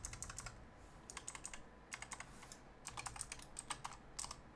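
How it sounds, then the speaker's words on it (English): Someone types on a computer keyboard, a quiet close run of rapid key clicks in irregular bursts with short pauses between them and no voices. "I hear Zim typing"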